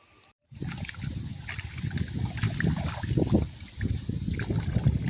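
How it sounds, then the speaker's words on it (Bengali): Rohu fish roe is rinsed under running water, a steady trickle and splash close by that continues with slight swells and a brief dip. "ডিমটাকে ধুয়ে নিচ্ছি"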